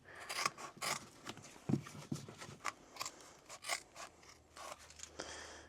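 Scissors snip into the leather of an Adidas Stan Smith shoe, giving a series of quiet, close, irregular crisp cuts and scrapes, with no talk.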